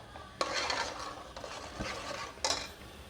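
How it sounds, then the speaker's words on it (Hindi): Rice kheer stirred continuously in a pot, with a few distinct scraping sweeps of a spoon against the metal over a low background bubbling, soft and close, no voices. "ये इस तरीके से मैं मुसलसल इसको चलाती जाऊंगी और 5 से 7 मिनट तक मैं इसको मज़ीद पकाऊंगी"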